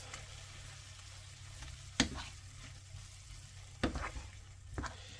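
Already-seasoned steak meat is mixed in a pan over a low, steady sizzle, with three or four distinct scraping stirs of a utensil standing out near the middle and end.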